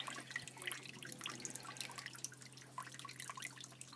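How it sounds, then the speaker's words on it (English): Sparging water running and dripping into a vessel during a home beer brew, some of it spilling over the edge; a steady close trickle with scattered drips over a low mains hum. "Sparging water's going over the edge a little bit, but not too bad."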